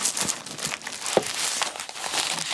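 Wrapping around a Chanel bag crinkles and tears as it is pulled open, a steady run of close, papery rustles with a few sharper snaps, no talking.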